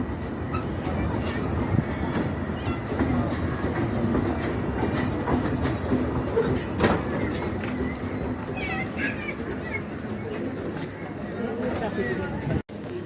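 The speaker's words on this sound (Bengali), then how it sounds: "অবশেষে আমাদের রূপসী বাংলা এক্সপ্রেস পনেরো মিনিট লেটে এই বেনাপুলি স্টেশনে এসে পৌঁছালো" The Ruposhi Bangla Express arriving at Benapole, a border railway station, with rolling clickety-clack from the wheels and cars and a brief high squeal, while a voice talks over it.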